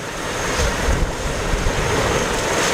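A Kawasaki P-1 maritime patrol jet flying a display at the ILA 2018 air show in Berlin gives a steady, broad roar that swells slightly, heard from a distance and without talk.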